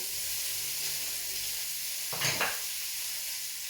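Broccoli and white onion sizzle in a stir fry pan with a soft continuous hiss, then a short louder burst of crackle and scraping as the vegetables land and get moved, close by and without voices.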